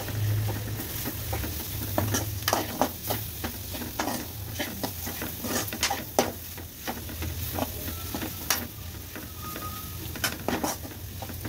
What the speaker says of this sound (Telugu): ఇవి కారం వేసుకొని బాగా ఇలా కలిపేసుకోవాలి.